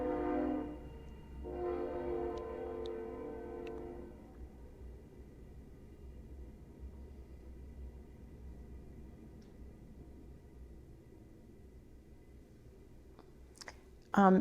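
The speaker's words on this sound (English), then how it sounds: "We're going to take a break here for the train." A train rolls past a road crossing, with a loud horn blast near the start and a steady rumbling passage that fades, plus scattered clicks and a sharp sound at the very end.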